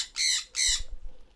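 Conure chicks newly released into an open aviary give two loud, harsh squawks in quick succession, close to the listener, followed by faint low rumbling.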